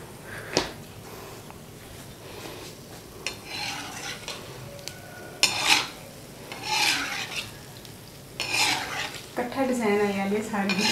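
A spoon stirs a milk powder gulab jamun mixture in a pan over a low flame, giving intermittent scraping and rasping strokes at close range, with a voice talking near the end.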